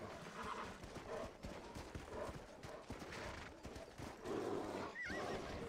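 Galloping hooves clatter steadily while a horse neighs in the video game Red Dead Redemption, a whinny rising near the end, amid busy game action and distant gunfire.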